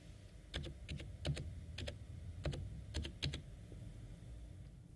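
Short bursts of keystrokes on a computer keyboard, close and fairly quiet, clicking in quick irregular clusters against a faint hum.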